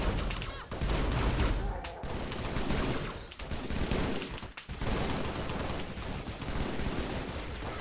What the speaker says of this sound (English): look at these guys getting gunned down